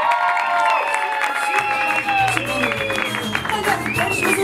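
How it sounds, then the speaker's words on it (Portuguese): Audience at a stand-up comedy debut claps and cheers for comedian Maria Forte, a steady crowd roar with clapping under a voice speaking over it. "palmas também para Maria Forte"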